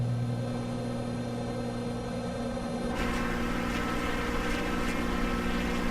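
Propeller aircraft engine in Microsoft Flight Simulator 2024 drones steadily with a constant tonal hum, then the pitch and roar shift slightly midway as the throttle is eased back from high RPM.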